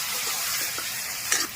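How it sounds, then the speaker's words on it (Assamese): Potatoes with turmeric fry in a pan for a fish curry, a steady high sizzle that runs throughout, with a few soft stirring scrapes near the end. "আলু দিয়াৰ পাছত আমি আৰু অলপ দেৰি ভাজিলো ভাজাৰ পাছত আমি তাত দিলো হালধি"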